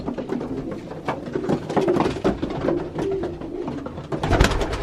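Young pigeons in an aviary, with a dense chorus of nearby soft coos, flutters and scuffling rustles continuing throughout.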